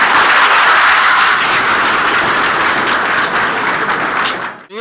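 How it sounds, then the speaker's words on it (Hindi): A school audience at an intercollegiate college in Maharajganj, Uttar Pradesh, applauds a teacher with loud, steady, dense clapping that fills the moment before fading out at the end. "चलिए सर के लिए ताली बजाइए आपको।"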